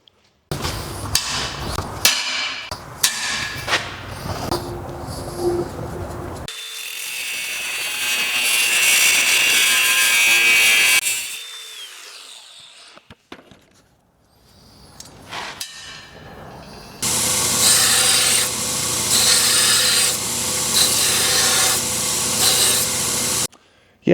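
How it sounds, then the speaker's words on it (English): Metal pipe end being cut off and then ground for blacksmith pipe forging, with bursts of harsh sawing and a sustained loud grinding roar, then a quieter gap before another long, bright grinding stretch. "so you just cut the end off. Oh, and then you grind it"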